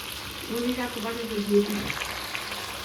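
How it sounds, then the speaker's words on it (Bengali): Ginger paste and black pepper sizzle in hot oil while a thin snakehead fish curry cooks, a steady close hiss with a brief voice over it in the middle. "দিয়ে দিচ্ছি আদা বাটা আর গোলমরিচ দিয়ে দিলাম।"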